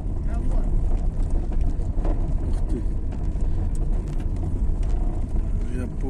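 Steady road and engine rumble inside a car driving home, continuous and loud with wind noise on the microphone, and faint voices talking over it.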